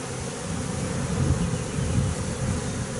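Honey bee swarm at a beekeeper's hives, a steady dense buzzing hum that holds throughout, close and fairly loud with slight swells, no voices.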